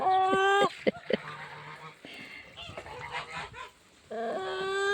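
Geese honk loudly nearby in harsh, repeated bursts at the start and end, with scattered softer calls in between.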